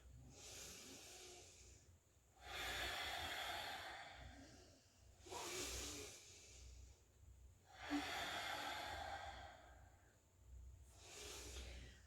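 Slow, deep breaths during a yoga flow, long airy inhales and exhales alternating in a steady rhythm, soft and close in a quiet indoor room, with no talking.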